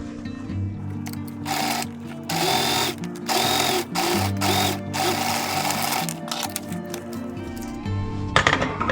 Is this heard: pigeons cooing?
no